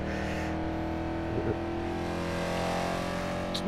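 A loud Mercedes C63 AMG engine drones steadily in a GoPro-style freeway cruise in Tokyo, a constant rich rumble with slight swells as it holds speed, no talking over it.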